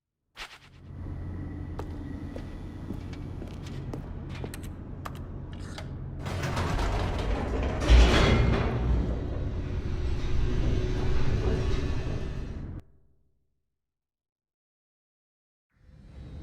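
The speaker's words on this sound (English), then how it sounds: "The elevator raced downward," An elevator descends in The Stanley Parable video game, giving a steady low mechanical rumble with faint creaks that swells around its midpoint, then stops abruptly into silence.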